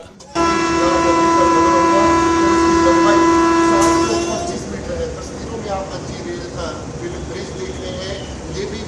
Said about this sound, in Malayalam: കടന്നു പോകുന്ന വന്ദേ ഭാരത് എക്സ്പ്രസ്